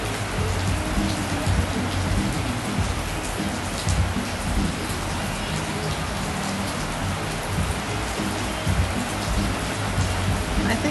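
Heavy rain pours steadily around Boat Lagoon in Phuket, Thailand, a dense unbroken hiss close by with no letup.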